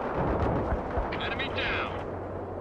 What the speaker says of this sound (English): They're firing at us.